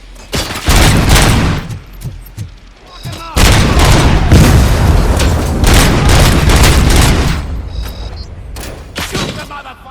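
Heavy gunfire and booming explosions in the RoboCop: Rogue City video game, loud sustained bursts of shots and blasts filling most of the stretch, with shouting voices over the combat.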